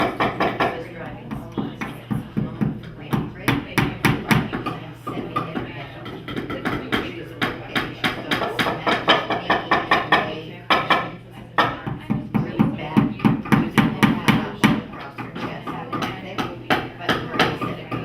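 Sharp hammer strikes repeat rapidly in uneven bursts for the whole stretch, knocking hard and close, with some talk mixed in.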